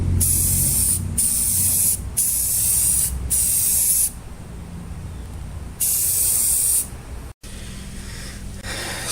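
Spray can laying a first light coat of paint on the base of a Sears Craftsman sander combo, several loud, close hissing bursts of a second or so each, with brief gaps and one longer pause.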